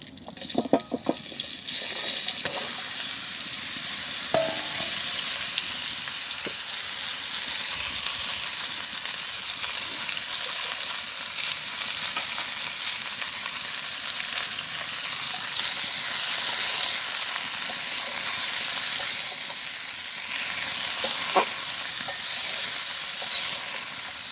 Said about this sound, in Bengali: তেল সুন্দর গরম হয়ে গেছে আমি এখন লাউ দিয়ে দিই